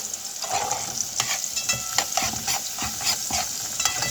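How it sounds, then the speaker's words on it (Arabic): Onions sizzle in a pan while a utensil stirs them, giving a steady frying hiss broken by irregular scraping strokes, close and fairly loud, with no voices. "ونفضل نحمر في البصله كده شويه لغايه ما تدبل معانا"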